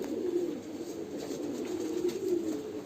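Pigeon cooing in a loft among a pair of fancy flying pigeons, a soft low continuous burbling coo that rolls on steadily and close for a few seconds with no talking.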